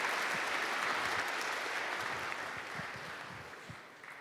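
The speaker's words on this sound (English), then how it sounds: "Please give him another round of applause, guys." A crowd at a hackathon opening ceremony applauds a speaker in a steady, fairly distant wash of clapping that slowly fades over a few seconds.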